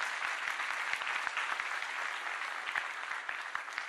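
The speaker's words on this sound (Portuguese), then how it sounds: "Uma salva de palmas para eles" A church congregation gives a round of applause, a dense and even clapping sound that fills the room steadily from start to end with no talking over it.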